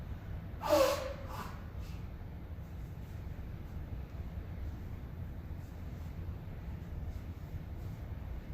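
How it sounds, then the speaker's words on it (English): A person blows their nose once, a short sharp nasal snort close to the microphone near the start, followed by a long quiet stretch of low room hum. "I just got to blow my nose."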